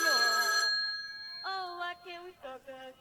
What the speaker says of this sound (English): It's like not even plugged in and it's ringing.